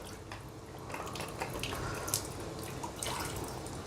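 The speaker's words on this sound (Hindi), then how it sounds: "अंदर से पानी ड्रेन कर लीजिएगा" Water drains and trickles out of an opened Kangen water machine unit, a faint, steady splashing with small drips scattered through it.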